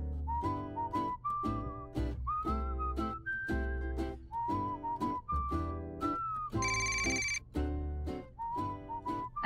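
A phone ringtone plays as a bright, whistle-like melodic tune, repeating in short rhythmic phrases with brief gaps, loud and close with no talking over it.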